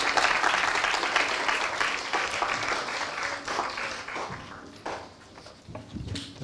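An audience at a church gathering applauds in a dense burst of clapping that thins out and fades toward the end, with a few scattered claps and faint voices underneath.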